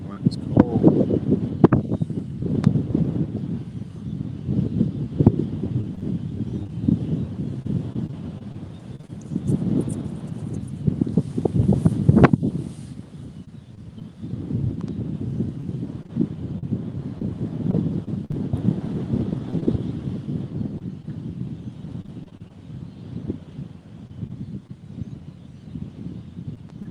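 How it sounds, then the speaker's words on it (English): Cold wind blows outdoors beside a river, with continuous loud rumbling and buffeting on the microphone that rises and falls in gusts over nearly half a minute. A few faint knocks break through. "Wow, that wind is cold."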